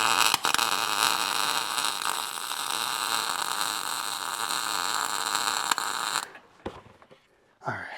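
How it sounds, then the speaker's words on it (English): Welding a part onto a Jeep from underneath produces a steady loud crackling buzz for about six seconds, then stops, followed by quieter clicks and a brief final burst. "we're going to see if we can weld this in"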